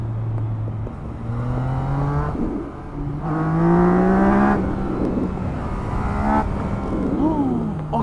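A 2020 Yamaha MT-09 motorcycle engine revs hard through repeated acceleration runs, pitch climbing in rising sweeps with brief dips between gear changes, loud and close with wind rush.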